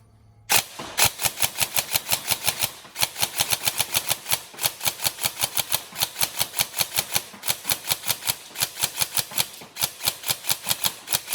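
Rapid, steady bursts of fire from an upgraded Tokyo Marui MK18 next-generation recoil airsoft rifle, loud and mechanical with a fast clacking cadence of recoil shots lasting throughout, no speech.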